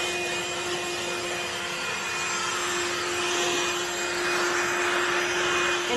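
HOTOR handheld wet/dry car vacuum cleaner passing over car seat upholstery, a steady close motor whine with a constant tone and faint rubbing texture, running alone throughout.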